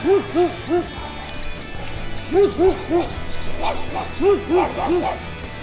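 A dog barks repeatedly outdoors beside a river while fishing, in short bursts of two or three loud barks separated by pauses, with steady background noise throughout.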